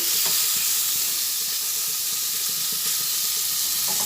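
Chicken pieces hiss and sizzle in a hot pan while being stirred for chicken ghugni, a loud, dense frying hiss with soft scraping movements underneath, continuous throughout.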